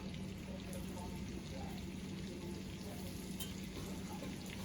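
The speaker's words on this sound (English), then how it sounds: "But they are sizzling really good" A constant, dense sizzle of lamb loin chops frying in a hot pan, loud and close, crackling evenly throughout.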